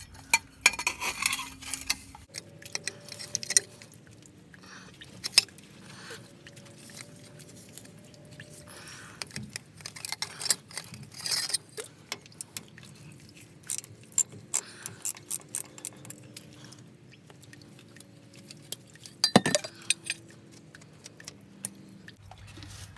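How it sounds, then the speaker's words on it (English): A 3/8 ratchet works the rear axle plug on a 1994 Ford F150, giving a series of sharp metallic clicks and clinks, some in rapid bursts and some spaced out, close by. A low steady hum runs underneath and no one talks. "Just gonna take a 3/8 ratchet and remove the plug."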